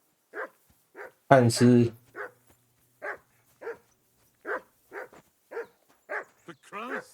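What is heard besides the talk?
dog barking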